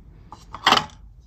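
A metal saucepan lid and pans are handled during a kitchen declutter, giving a few light taps followed by one short bright clang and jangle, close by and brief.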